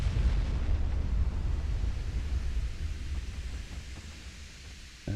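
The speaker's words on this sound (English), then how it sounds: "There's the torpedo." A torpedo strikes a warship in the naval game Ultimate Admiral: Dreadnoughts, giving a heavy, sustained rumbling blast. The low roar is loud at first and slowly fades over a few seconds, with no voices over it.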